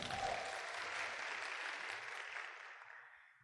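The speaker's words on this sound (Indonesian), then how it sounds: "mohon aplaus untuk kita semua" Audience applause at an Indonesian business seminar, a steady wash of clapping from a seated crowd that slowly fades out, fairly distant and without speech over it.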